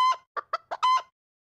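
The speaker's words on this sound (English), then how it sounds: "Chicken." Chicken clucking: a short run of five quick clucks, close and clear, with the first and last calls longer and drawn out, alone with no other sound.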